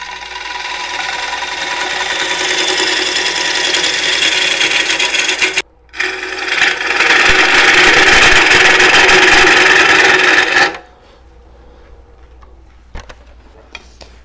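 A woodturning gouge cuts the inside of a green wood bowl on a lathe, making a loud, steady scraping rasp that stops briefly around six seconds, resumes, then cuts out, leaving a quiet hum.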